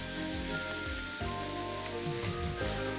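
Garlic and onion sizzle softly and steadily in a pan over very low heat, a continuous close frying hiss with faint low bubbling and no talking.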